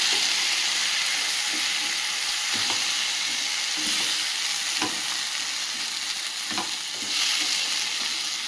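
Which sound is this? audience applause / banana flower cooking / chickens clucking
banana flower cooking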